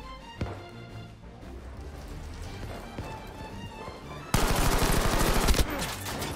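Gunfire from the World War II shooter Battlefield V, a dense run of rapid shots that bursts suddenly louder near the end and continues as steady automatic fire.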